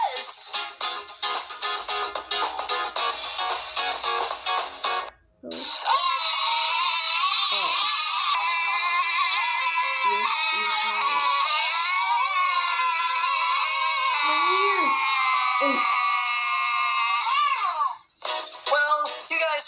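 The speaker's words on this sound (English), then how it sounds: "you guys both started screaming at the same time" Two cartoon characters scream at once, a sustained high-pitched shriek that fills most of the clip, loud and continuous, with shorter cries before and after it.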